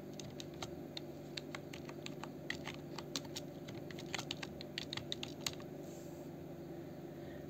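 Keys on a computer keyboard click in quick, irregular bursts of soft taps while a name is typed, quiet and close over a steady low room hum, with no voices.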